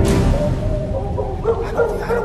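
Stray dogs bark and yip nearby, a few sharp, close barks followed by higher whining yelps, loud and spread over a couple of seconds.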